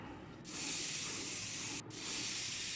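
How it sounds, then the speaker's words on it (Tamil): A pressure cooker whistle releases steam while chicken cooks on a kitchen stove, a loud steady hiss that starts abruptly, breaks for a moment, then resumes, with no talking. "குக்கர் விசில் பார்த்திங்கன்னா இப்போ 2 விசில் வந்துருச்சு."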